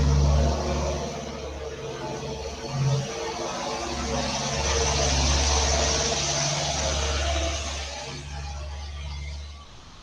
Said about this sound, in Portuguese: Passou o carro.